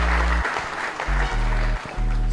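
A live stage audience claps in a broad, steady wash of applause for most of two seconds, briefly dipping, with a low droning tonal hum running underneath.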